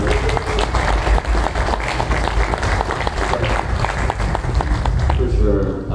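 Audience at a cannabis-industry genetics panel clapping and cheering, a dense, loud burst of applause filling the room and sustained throughout, with crowd voices mixed in.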